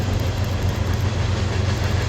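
Long Norfolk Southern freight train rolling past with a distributed-power locomotive shoving hard at the rear: steady, loud, continuous rumble of wheels and engine throughout, with no voices.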